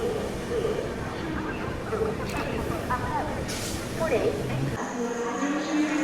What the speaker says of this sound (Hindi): दोस्तों हमारी ट्रेन पहुंच चुकी है बडनेरा जंक्शन।